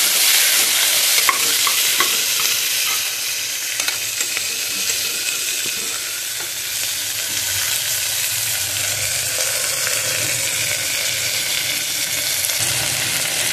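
Moong dal khichdi being stirred in a pot, a steady close scrape and bubbling simmer with occasional spoon knocks against the sides, continuous for the whole stretch with no voices.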